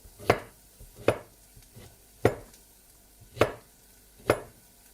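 Courgette being chopped on a board with a knife, five or six sharp, distinct thuds at an uneven, unhurried pace, close and fairly quiet, with faint softer knocks between them.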